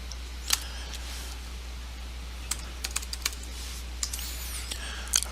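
Someone types on a computer keyboard in scattered bursts of crisp, close clicks over a steady low electrical hum. No one speaks.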